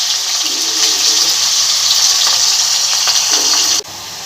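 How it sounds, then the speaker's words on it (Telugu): Onions frying in oil, a loud, close, continuous hissing sizzle that cuts off abruptly near the end, leaving a quieter hiss. "ఆనియన్ ఫ్రై చేసుకుంటున్నాను"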